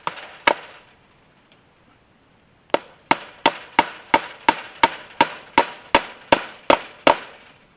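A big hammer drives a nail while an electric hot-wire fence is put up outdoors: two sharp strikes, a pause, then a steady run of about a dozen evenly spaced loud blows, close and without talk.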